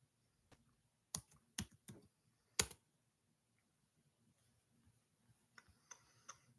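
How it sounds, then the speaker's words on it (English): Sparse keystrokes on a computer keyboard: a few sharp, close clicks in an uneven rhythm, with short pauses between bursts, in an otherwise quiet room. "We want to type in lambda."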